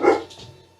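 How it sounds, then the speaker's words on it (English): A dog gives one loud, close bark that is followed by fainter, trailing yips and whimpers, as dogs inside a house react to a delivery driver at the door. "the dogs are barking at the Amazon delivery driver"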